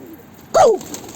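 A single short bird call, a quick falling coo, rises briefly above a quiet background hum.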